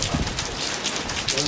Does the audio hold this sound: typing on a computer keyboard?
no